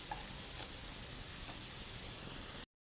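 Potatoes and steak bites sizzle in a hot pan, a steady broadband hiss and crackle running evenly from start to finish with no voices.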